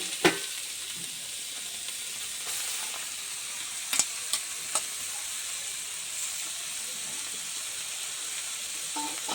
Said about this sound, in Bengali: এবার বাঁধাকপিটা দিয়ে দিচ্ছি